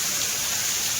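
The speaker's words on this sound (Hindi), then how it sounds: "संगवारी हो बारिश भी स्टार्ट हो गया" Steady hiss of rain falling, a continuous wash of drops with no voices.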